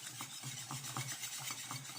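Chocolate fondant batter beaten energetically with a spoon in a bowl, giving a soft, quiet, rhythmic rubbing and scraping that repeats about every quarter second, close up with no voices.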